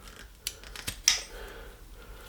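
A pair of ordinary scissors snips a few times during a machine coolant upgrade, giving several short, crisp close-up cuts spaced unevenly in a quiet room, with no talking.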